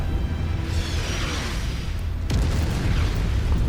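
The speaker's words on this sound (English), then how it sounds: "the artillery is very uncharacteristically inaccurate in these missions" Artillery explosions in MechWarrior 5: Mercenaries form a dense, continuous rumbling roar with booming low end, a fresh blast hitting partway through, loud and sustained with no talking.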